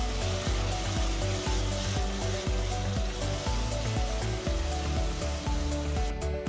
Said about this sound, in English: I will be sauteing the onions for some time until it turns translucent in